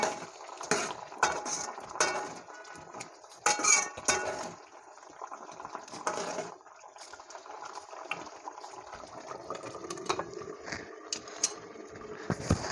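Intermittent scraping and clinking of a spoon stirring potato curry in a pan, over a soft bubbling simmer, with occasional knocks.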